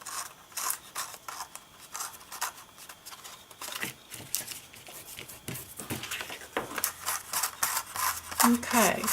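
Scissors cut down a cellophane bag in a run of quick crisp snips and crinkling rustles, close and fairly loud.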